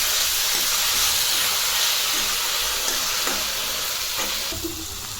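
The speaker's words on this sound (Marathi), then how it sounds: "आता भाजी आपण परतून घेऊ।" Fenugreek (methi) greens are sautéed and stirred in hot oil with cumin and mustard seeds, giving a loud, continuous sizzle and hiss with faint scraping stir strokes underneath.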